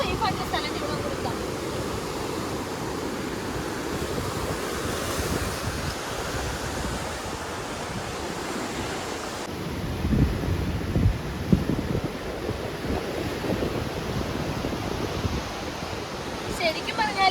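Surf rolls in steadily at Kovalam beach, a broad, continuous wash of ocean waves with gusty wind on the microphone. A brief high whine joins partway through, and nobody speaks.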